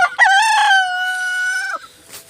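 A single rooster crows once, loud and close, a drawn-out cock-a-doodle-doo lasting about two seconds.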